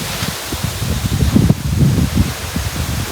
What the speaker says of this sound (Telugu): ఈ రేంజ్లో ఉందో చూడండి అసలు గాలి